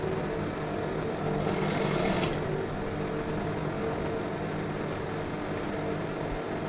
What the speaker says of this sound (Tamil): கரெக்டாக வச்சு நீங்கள் ஸ்டிச் பண்ணிக்கிட்டே வாங்க.